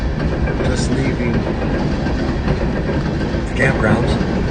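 A train rumbles past at a crossing near a campground, a steady loud rolling roar with faint clatter and a few higher squeals or horn-like tones over it.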